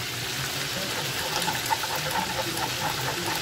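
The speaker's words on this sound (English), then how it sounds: "I can hear the potatoes bubbling away." A steady wash of bubbling, churning water from potatoes at a rolling boil, continuous and fairly loud with small pops rising through it.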